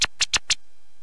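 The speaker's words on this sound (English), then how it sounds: "The default scratch sound like this," Virtual DJ's default keyboard scratch sound gives four short, sharp, close scratch bursts in quick succession over half a second, followed by quiet.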